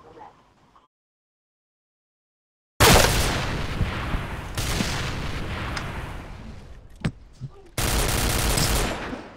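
Gunfire in a shooting video game, a dense burst of rapid shots and booms that starts abruptly after near-silence, dips briefly, then resumes as loud continuous fire.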